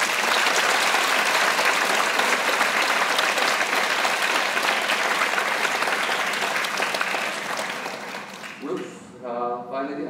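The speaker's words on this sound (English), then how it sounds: "can you please join me to give them a big round of applause" A large audience at a closing ceremony applauds in a dense, sustained burst of clapping that gradually thins out toward the end, after which a voice begins speaking over the fading claps.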